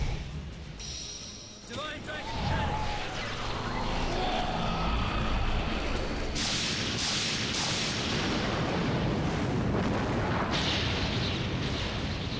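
Rumbling explosion blasts from the Samael Cannon final attack in the Legend of Dragoon PlayStation game's final boss battle, a loud dense barrage of booms and crackling bursts sustained for several seconds over music.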